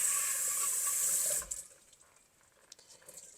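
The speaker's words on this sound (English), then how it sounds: "we're just going to dump it down the sink. And the screen strains out the lentils." Water with lentils pours down a sink through a mesh strainer screen, a loud steady rush for about a second and a half that cuts off abruptly, followed by faint drips and trickles.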